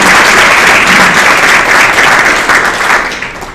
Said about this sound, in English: So let's give you guys a hand